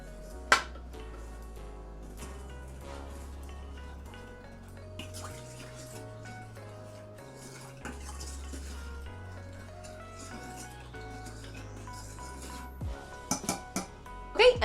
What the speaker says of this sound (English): Mix that around.